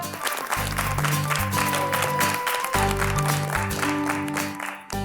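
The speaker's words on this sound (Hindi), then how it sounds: "जोरदार तालियों से स्वागत किया जाए उनका।" Applause greeting a performer at a family function blends with loud music carrying a heavy bass beat, the clapping a bright rattle running continuously over the tune.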